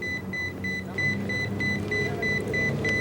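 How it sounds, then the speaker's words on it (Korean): Radio pager beeping on a busy street, a short regular series of high electronic beeps repeating over traffic and street noise. "아, 길거리에서도 막 삐삐삐삐삐삐 거리네요"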